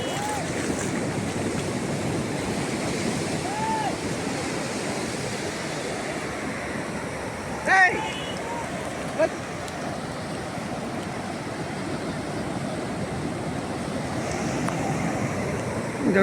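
Steady sea surf washing onto Upada beach in Andhra Pradesh, a broad continuous roar with wind across the microphone and a couple of brief louder bumps, no speech.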